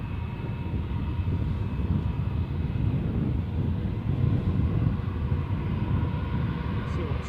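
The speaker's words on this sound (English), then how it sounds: "I reckon that will just about get this aircraft to the end of the taxiway." An airliner taxiing at Edinburgh airport, a steady low engine rumble with a broad airy roar and a faint whine, continuous and moderately close for the whole stretch.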